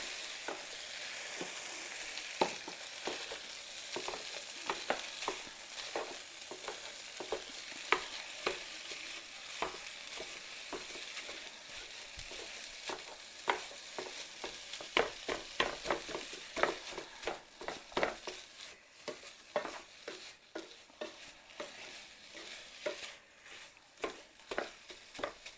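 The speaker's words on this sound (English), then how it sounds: "I'm just going to chop up my" Ground turkey sizzles steadily in a frying pan, with repeated sharp scraping and chopping clicks from a utensil breaking it up and stirring, close and continuous with no talk.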